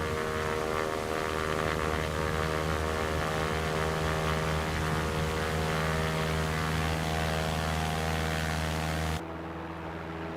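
An aircraft engine in the X-Plane 11 flight simulator drones loud and steady with a humming tonal whine, then cuts off abruptly near the end.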